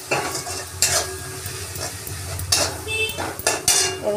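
Tomato and green chili being stirred in a pan with salt, turmeric and chili powder for chicken curry, a steady soft sizzle with scraping spatula strokes and a few louder clanks against the pot.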